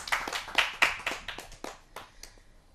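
Audience at a Hindi kavi sammelan poetry gathering clapping for a poet arriving on stage, a brisk burst of many hands that starts strong and thins out over a few seconds, with no voices over it.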